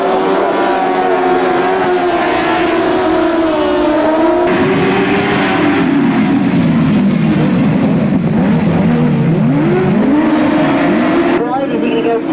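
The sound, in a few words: motorcycles racing on grasstrack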